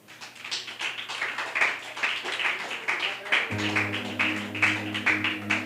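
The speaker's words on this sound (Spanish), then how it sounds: "Denle un aplauso al Señor." A church congregation claps in a rapid, continuous patter, fairly close and steady, while a low sustained tone from music or an organ enters partway through.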